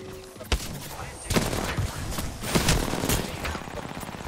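Gunfire in Apex Legends, several sharp close shots and short bursts in quick irregular succession over a background of game noise, with a voice briefly talking.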